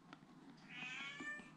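An indoor cat meows in a drawn-out, rising-and-falling cry, faint and plaintive against a quiet room.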